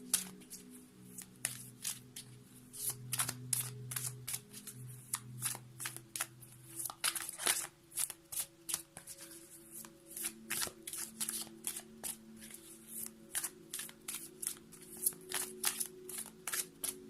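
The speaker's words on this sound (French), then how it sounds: "J'ai bien senti que j'avais du mal à brasser mon jeu." A deck of tarot cards is shuffled by hand again and again, and each riffle makes a close, crisp burst of rapid flicks and rustles. Quiet hums and low murmurs sit in the background.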